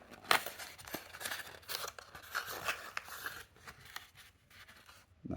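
A small paper envelope is opened up close. Crisp crinkling, snipping and tearing rustles come in quiet bursts, with a sharp crackle near the start.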